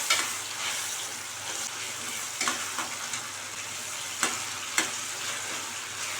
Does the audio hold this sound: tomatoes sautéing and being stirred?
yes